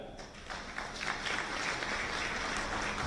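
Audience clapping steadily for award recipients called forward to receive prizes at a memorial conference honouring the late former president Mkapa, a continuous dense patter of many hands at moderate level.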